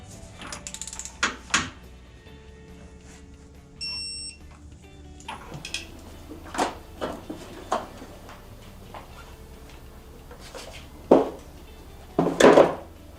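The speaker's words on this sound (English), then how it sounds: "So I'll bust out my sweet snap-on torque wrench" A Snap-on torque wrench ratchets on oil cooler bolts on a Mustang, giving short bursts of close clicking with pauses between, mixed with tool clatter and a brief high electronic beep.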